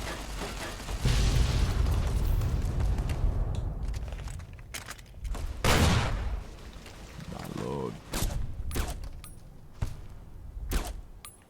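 Gunfire in the video game Fallout New Vegas: loud bursts and booms early on, then a string of sharp separate shots toward the end, with someone talking over them.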